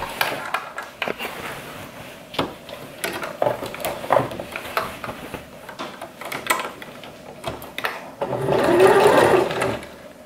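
A home sewing machine stitches the final curved seam of a Papercut Patterns Sapporo coat, running in short irregular bursts of rattling needle clatter with pauses, then a longer steady run near the end, fairly close.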